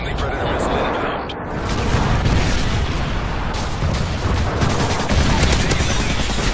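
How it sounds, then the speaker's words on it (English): Airstrike explosions and gunfire in Modern Warfare 3, a dense continuous roar of blasts and rapid shots filling the whole stretch, loud and close, with voices talking underneath. "Delta airstrike on the way."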